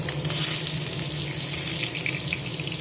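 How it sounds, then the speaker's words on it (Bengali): Potatoes sizzle steadily in hot oil in a home kitchen pan, with a continuous crackling hiss and no talking. "আর এদিকে একটু আলু ভাজবো"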